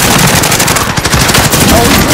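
Loud, dense bursts of automatic gunfire in the Call of Duty Warzone video game, rapid and continuous, with a voice speaking briefly under the shooting.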